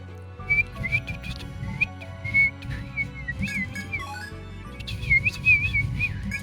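A person whistling to imitate a bird: a string of clear, high, warbling whistled notes with short pauses, some sliding up and down in pitch, close and moderately loud over soft background music.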